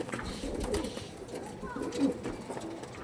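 Soft, low cooing of a dark-barred pigeon with purple-toned feet, one of a breeding pair kept by a pigeon fancier, repeating faintly in short rounded bursts against a busy outdoor background with some voices.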